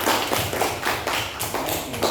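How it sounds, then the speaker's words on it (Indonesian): Group of people clapping together for everyone in a classroom, rapid tapping claps filling about two seconds at a steady loud level. "Tepuk tangan buat semua"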